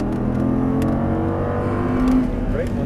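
Audi R8 engine pulling hard on throttle, a loud, steady low drone with rising harmonics as the car accelerates, close and continuous under a voice giving driving instructions.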